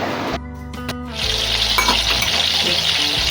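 Cumin and whole garam masala spices, including cloves, black pepper and bay leaves, hit hot oil for a tempering, giving a sudden loud sizzle that settles into a steady crackling fry.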